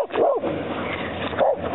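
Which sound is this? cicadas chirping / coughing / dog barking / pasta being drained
dog barking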